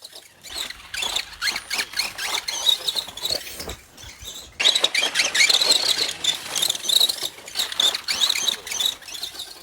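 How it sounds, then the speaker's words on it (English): Electric motor of a modern 2WD RC buggy winding up during time-trial hot laps at Orchard Raceway, a high, whining squeal that rises and falls repeatedly, louder in the second half, with no talk. "There's a really nice sound that comes from this buggy when it's winding up."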